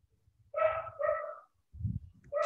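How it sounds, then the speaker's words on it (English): Dog barking in the house next door, a few distinct barks separated by short pauses, fairly clear with a low thump between them. "Oh, your dog is barking."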